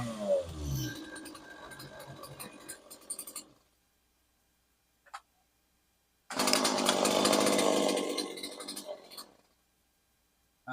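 A chainsaw set to half choke fires up and roars for a few seconds, cuts out, gives a brief sputter, then starts again and runs loudly for about three seconds before dying down.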